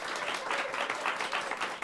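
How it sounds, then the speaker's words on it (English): Applause from a small group gathered in a radio studio, a brief steady patter of clapping heard fairly close with a slightly muffled, dense texture. "I think we're supposed to clap."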